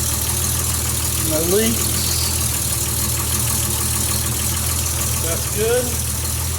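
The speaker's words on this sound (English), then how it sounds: "got it fired up with the new turbo" A Nissan Z31 engine idles steadily after a turbo swap, a constant low rumble throughout, with someone talking briefly over it.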